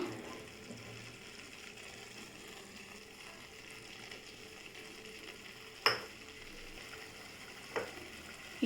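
Egg added to frying onion masala in a pan and stirred, a soft steady sizzle throughout with a sharp clink of a utensil partway through and another fainter tap later.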